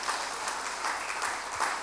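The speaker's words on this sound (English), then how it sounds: "Give them a round of applause." An audience claps together at a church sermon, a steady dense wash of applause that stays at an even level throughout the short stretch.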